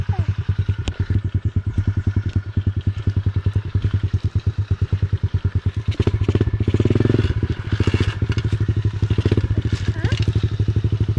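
A mini motorcycle rides a muddy trail, its small engine putting out a steady, rapid, close-up pulsing putter that swells briefly louder mid-way, with faint clatter and scraping from the rough ground.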